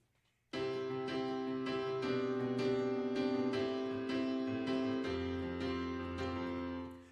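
A sequence of struck piano chords rings out at a steady pace, each one sustaining into the next, quiet and even, with no one speaking.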